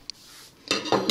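Plates and cutlery clink and scrape while homemade burgers are plated in a kitchen, a few sharp close knocks and clatters in quick succession without speech.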